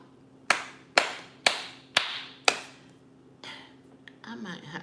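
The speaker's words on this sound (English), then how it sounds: "Clap, clap, clap." Five sharp, evenly spaced single hand claps ring out close and loud in a quiet room, each with a short decay, followed by softer rustling and a brief voice.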